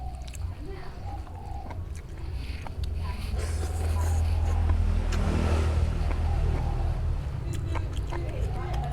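Traffic noise from a nearby road rumbles steadily in the background, with a vehicle passing and swelling louder midway, while people talk over it throughout.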